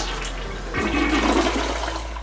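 A toilet flushes wipes down, giving a close, loud whoosh of rushing water that builds quickly and then holds as a steady draining swirl.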